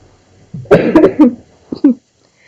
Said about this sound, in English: Excuse me while I cough.